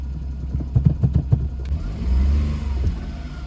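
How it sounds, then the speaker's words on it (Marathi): A car engine cranks with a quick series of rhythmic starter pulses, then catches and settles into a steady idle, close and fairly loud, with no one talking. "गाडी चालू झालेली आहे, बघू शकता या ठिकाणी."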